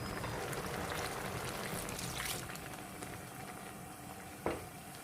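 A pot of dried pollack and seaweed soup simmers with a steady bubbling hiss, and a brief clink sounds near the end.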